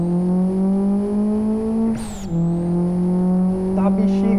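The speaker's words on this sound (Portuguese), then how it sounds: "Olha a turbina enchendo." Monza turbo car engine in the Live for Speed racing game, a loud steady drone that dips with a brief gear-change squeal midway and then resumes revving, with a voice speaking over it.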